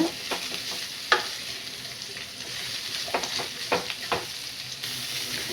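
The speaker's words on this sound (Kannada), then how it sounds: "ಅದಕ್ಕೆ ಹಾಗಲಕಾಯಿ ಹಾಕ್ಕೊಂಡು ಫ್ರೈ ಮಾಡ್ಕೊಬೇಕು" Bitter gourd frying in hot oil gives a steady close sizzle, with several sharp stirring clatters and scrapes scattered through, and no voices.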